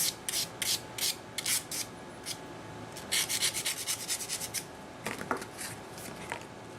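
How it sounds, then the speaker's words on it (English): Sandpaper rubs a point onto a wing spar for an FPV race wing build: quiet, close, rhythmic bursts of short rasping strokes separated by brief pauses, with no talking. "sometimes it helps to sand a little bit of a point in that spar"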